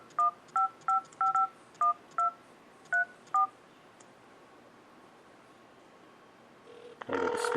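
A Motorola Droid X phone dialer plays about nine short, clean touch-tone beeps in quick, uneven succession, followed by a pause, then a louder burst of sound from the phone at the end.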